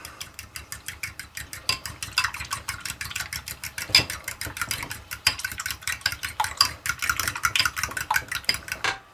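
Eggs with salt and pepper whisked together in a bowl, a fast steady run of light metallic taps and clinks, close and continuous with no talking.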